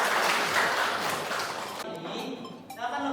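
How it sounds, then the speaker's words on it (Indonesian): A class of students applauds together after a concentration game in a biology lesson, a dense, steady clapping that fills the room before thinning out near the end. "Oke, kasih tepuk tangan buat semuanya."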